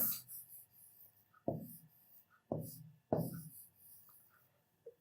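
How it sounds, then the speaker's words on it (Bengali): Pen strokes writing the Arabic letter kaf during a beginner's lesson on the 29 Arabic letters, heard as three quiet, separate scratchy strokes with soft handling noise between them and no speech. "যেমন দেখুন, আমি এখানে লিখলাম কাফ।"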